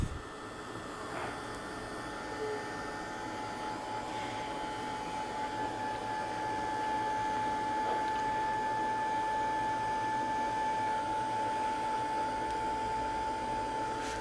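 Constant blowing hum of a hair dryer drying synthetic mixed media altered flowers, close and steady throughout with a faint high whine and no speech.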